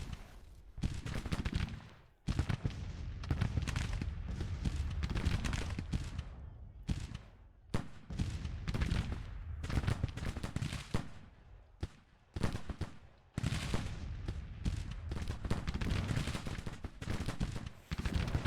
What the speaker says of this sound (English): Everybody's firing.